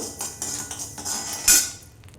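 Finger millet (ragi) is roasted in a pan and stirred with a metal utensil, making a run of light clinking scrapes and taps with one sharper metallic clack near the end. The sound is fairly quiet and close, with no voices.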